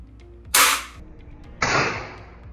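A GK Mini airsoft gun fires two separate shots, each a sharp, close burst of hiss and snap with a short decaying tail, spaced about a second apart against a quiet background.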